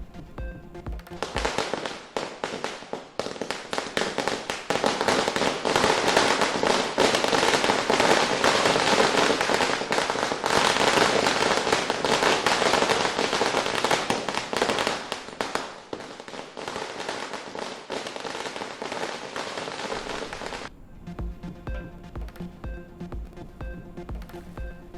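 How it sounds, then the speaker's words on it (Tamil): A long, dense barrage of firecrackers bursting in rapid crackling succession during Diwali celebrations in Chennai, loud and close, then stopping abruptly and leaving scattered distant pops. "வண்ண வண்ண பட்டாசுகளை வெடித்து மகிழும் மக்கள்"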